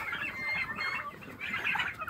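Several hens cluck and murmur nearby in overlapping bursts, a busy coop chatter with no talking.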